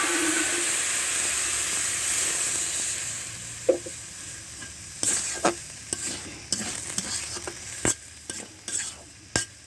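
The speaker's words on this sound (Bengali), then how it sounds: "অল্প একটু জল দেবো কচু সিদ্ধ হওয়ার মতো" Taro simmers in a pan with a little water, giving a soft steady hiss, then a spoon scrapes and stirs it in irregular sharp clacks through the second half, close by, with no voices.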